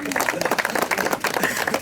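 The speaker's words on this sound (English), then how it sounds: "Give this young man a round of applause." A short burst of applause from a small group at a seed drill demonstration, close, dense clapping mixed with voices talking over it.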